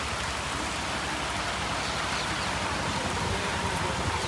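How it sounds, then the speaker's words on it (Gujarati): Heavy rain pours down in a steady, dense hiss that fills the whole clip without a break, close by and loud, with no voices. "વરસાદ ચાલુ થઈ ગયો જબરજસ્ત"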